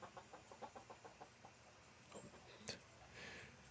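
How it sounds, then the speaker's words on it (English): A chicken clucks: a faint, rhythmic series of about eight short clucks, followed by quieter scattered sounds and a soft click, all low in level. "There's a chicken over there."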